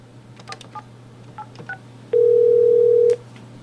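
A phone is dialed for a prank call: a series of short touch-tone beeps, then one long steady tone lasting about a second, all over a low steady hum with no speech.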